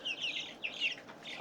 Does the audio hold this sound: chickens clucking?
yes